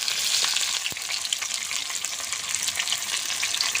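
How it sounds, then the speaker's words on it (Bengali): Pieces of mutton frying in hot oil with salt and turmeric crackle and sizzle steadily, close and fairly loud, with a few faint stirring knocks and no talking. "মাংসটাকে আমি সুন্দর করে লাল লাল করে ভেজে দেবো"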